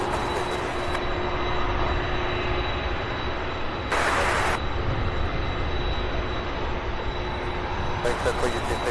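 Boeing 767 and Airbus A300 jets on the ground at Louisville airport, one just pushed back, give a steady, loud, close engine roar with a thin high whine and short hissing surges, under faint voices.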